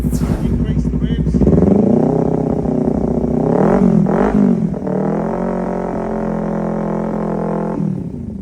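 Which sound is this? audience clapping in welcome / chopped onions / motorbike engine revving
motorbike engine revving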